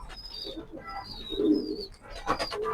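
A pair of racing Maxi pigeons coo softly with low, rolling calls, close by, while faint high chirps from other birds sound in the background.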